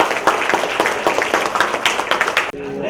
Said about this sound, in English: give a big round of applause to our world champion